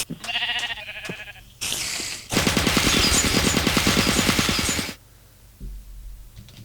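A Minecraft turret from the Battlecraft/Voltz ICBM mod fires at spiders: a loud, continuous rapid burst of shots lasting about two and a half seconds, with shorter game noises before it and quiet after.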